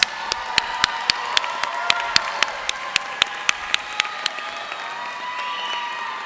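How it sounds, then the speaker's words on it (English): At a university graduation ceremony, one close pair of hands claps in a steady, evenly spaced rhythm over a softer wash of distant crowd applause in a large hall. "give them a round of applause"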